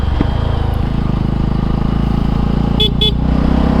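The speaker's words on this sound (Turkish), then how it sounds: "Bu arada korna çaldım ilerlesinler diye." Two short horn honks close together from a Voge 250RR motorcycle with its exhaust removed, over a steady idling engine.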